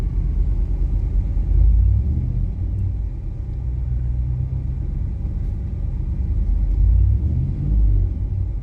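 An LS-swapped OBS Ford truck fitted with a Holley Terminator X Max ECU idles close by, a steady low rumble with a couple of slight swells. No one speaks.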